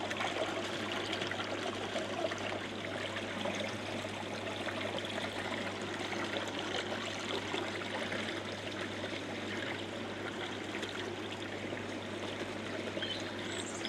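Water from an Evolution Aqua pond filter flows back down into a garden stream in an even, continuous trickle, fairly quiet and close, over a faint steady hum and with no voices.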